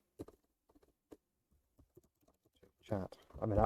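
Sparse clicks of typing on a computer keyboard come in short scattered bursts over a quiet background, before a voice starts speaking loudly at the end.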